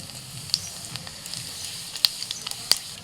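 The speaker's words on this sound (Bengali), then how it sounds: "সরষের তেলের মধ্যে 2টো শুকনো লঙ্কা দিয়েছি, একটু ভেজে নিই আগে" Two dried red chilies and whole cumin fry in hot mustard oil for a tempering, giving a soft steady sizzle broken by a few sharp crackling pops, close up with no talk.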